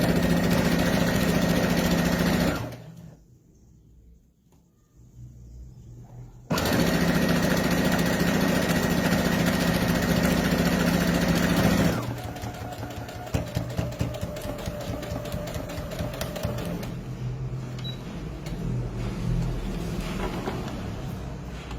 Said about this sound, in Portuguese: Alinhei, pé de máquina, desço a agulha e procedo a costura